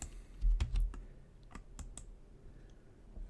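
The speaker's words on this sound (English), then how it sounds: "we're going to type in this command" Keystrokes on a computer keyboard as a command is typed, a handful of sharp separate clicks spread irregularly over a few seconds, close and fairly quiet.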